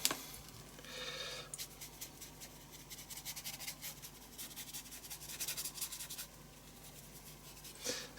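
Steady rubbing on a porous art journal page, soft dry scratchy strokes repeating in a loose rhythm, close and quiet with no talk.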